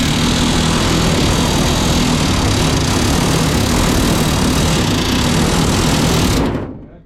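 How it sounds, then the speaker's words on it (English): A pneumatic rivet gun sets a rivet on a 1232 aluminium jon boat, producing a loud, continuous close-up rattling roar for about six seconds before it quickly cuts off. "then you're just gonna press the trigger on the rivet gun"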